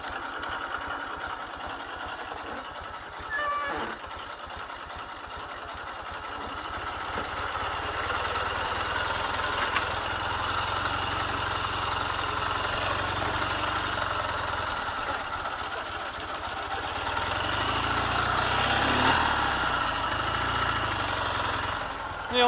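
A Ural K750 motorcycle engine chugs steadily while riding along a rut on an off-road test drive, a continuous rough mid-pitched drone that swells louder toward the end, with no talking over it.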